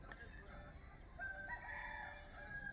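A rooster crows faintly in the distance, a drawn-out call rising over a quiet outdoor background.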